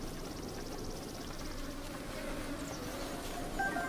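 A swarm of bees buzzes in the video game Zelda Breath of the Wild, a continuous droning hum over a low game ambience, moderately loud and steady with no talk.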